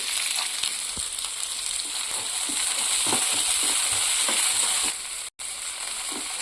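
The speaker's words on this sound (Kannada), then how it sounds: "ಈರುಳ್ಳಿ ಸ್ವಲ್ಪ ಫ್ರೈ ಮಾಡಿದ ನಂತರ ಹಸಿ ಬಟಾಣಿಯನ್ನ ಹಾಕೊಳ್ಳೋಣ" Chopped onion and fresh green peas fry in a hot pan for aloo matar puffs filling, giving a steady close crackling sizzle with soft stirring scrapes throughout and a brief cutout near the end.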